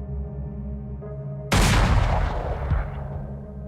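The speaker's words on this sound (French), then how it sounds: "Les gendarmes tirent un coup de fusil dans la chambre." A single rifle shot fired inside a bedroom bursts out loud and sharp over a low hum, then decays into a long rumbling echo that fades over the next two seconds.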